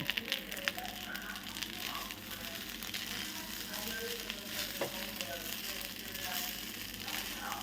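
Rice frying in a hot pan for egg fried rice gives a steady, dense sizzle that runs the whole time, with stirring and scraping mixed in at close range.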